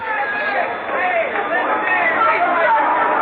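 Crowd leaving Shea Stadium after a Mets baseball game, a dense, continuous babble of many voices and shuffling movement, steady and fairly loud throughout.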